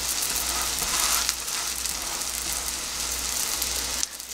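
Zucchini and egg pancakes sizzle over low heat in a frying pan, a steady close hiss and crackle of oil that holds level throughout, with no voices.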